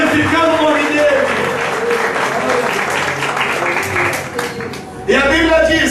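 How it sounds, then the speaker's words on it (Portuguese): A church congregation claps together in praise during a sermon, a steady dense patter of applause with voices mixed in, swelling briefly again near the end. "E aplauda bonito, glorificando o nome dele."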